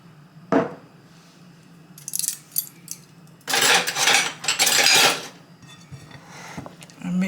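Caribbean Easter spice bun batter mixed with browning in a bowl: a utensil clinks and scrapes in short loud bursts, separated by quieter pauses, with a little talking.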